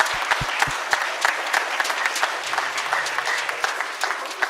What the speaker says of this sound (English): let's give them a round of applause because that's pretty cool